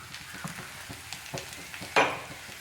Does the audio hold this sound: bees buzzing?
no